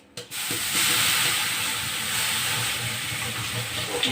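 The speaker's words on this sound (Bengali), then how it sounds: "গরম কড়াইটা ভীষণ দেখেছে জল পড়ছে আর কীরকম আওয়াজ হচ্ছে" Water hits a hot wok with a sudden burst, then a loud, continuous steamy hiss and sizzle close up, with no voices.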